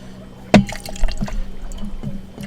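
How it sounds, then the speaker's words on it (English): Captain Morgan Dark, Havana Club Anejo and Malibu coconut rum poured for a cocktail: a sharp clink and short splash, then light trickling and dripping liquid, close by, with no talking. "we're gonna go 3 kinds of rum: Captain Morgan Dark, Havana Club Anejo, and then some Malibu coconut rum."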